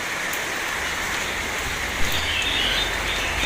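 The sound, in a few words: rainwater running down wall from tin shed onto stairs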